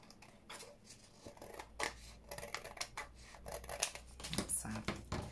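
Scissors trim a paper file folder for a junk journal folio, making close, soft snipping and rustling cuts in a quick irregular rhythm under quiet talk.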